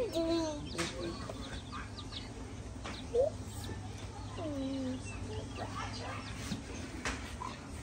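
Newly hatched baby chicks give soft, high chirps and peeps, scattered through the clip over a steady low hum. Voices talk quietly in the background.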